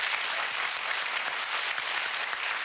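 A studio audience applauds the best players of a radio game show, a steady, dense wash of clapping with no pauses, loud and even throughout.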